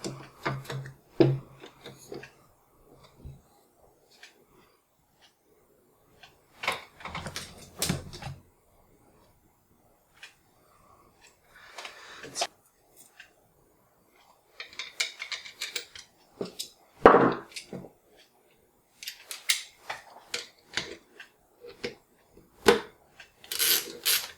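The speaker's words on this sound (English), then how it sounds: "I'm going to go ahead and carefully slide it together." Rifle action being slid into an MDT HS3 stock, with scattered close wooden and metallic clunks, scrapes and clicks coming in short bursts separated by quiet gaps.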